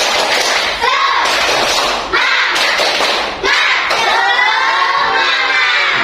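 A class of children performs the rhythmic 'tepuk semangat' clapping chant in a classroom, with loud bursts of clapping mixed with shouted voices and a few brief pauses.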